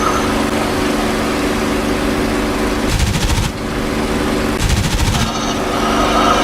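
F6F Hellcat machine guns in the World War II flight sim DCS World: two loud rattling bursts, each about half a second to a second long, over a steady droning engine roar.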